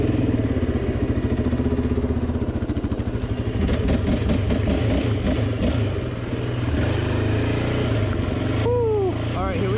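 A quad ATV rides along dirt trails, its engine droning and revving steadily up close with rattling clatter, while someone talks over the machine.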